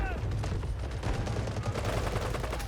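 Dense battlefield gunfire in a first-person shooter game, continuous overlapping shots and bursts at steady loudness, with faint speech mixed underneath; a single headshot is not picked out.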